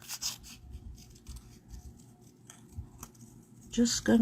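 Scissors snip through a stamped paper image in short, close crisp cuts, with a person talking quietly over the work.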